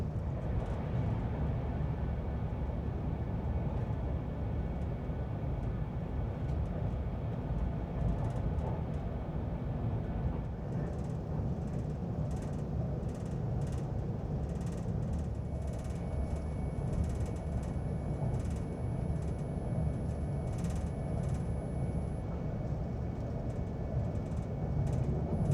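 Steady, loud rolling rumble inside an Avanti West Coast train as it slows toward a station, with a constant low drone and faint higher whine throughout and no clear talk.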